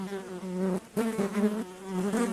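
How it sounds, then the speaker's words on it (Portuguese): Flies buzzing inside a dark, hot, shuttered room, a loud close droning hum with wavering pitch that briefly dips then resumes, no voices. "o silêncio só era quebrado pelo zumbido das moscas"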